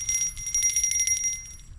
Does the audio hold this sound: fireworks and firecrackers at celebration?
no